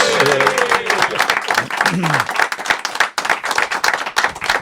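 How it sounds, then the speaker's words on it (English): A studio audience gives a round of applause for guest John Peddelty, lively clapping filling the room while a voice speaks over the start. "give John a big round of applause"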